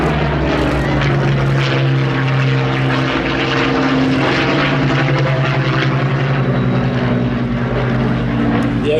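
A Supermarine Spitfire of the Battle of Britain Memorial Flight passes overhead at an air festival, its piston engine and propeller giving a loud, sustained droning roar.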